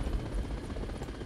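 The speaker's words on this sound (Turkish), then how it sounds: "Helikopter iniş yapıyor üstümüze" A helicopter landing in the Arma Reforger video game gives a close, rumbling rotor thump and engine roar, loud and continuous for a brief moment with no voices.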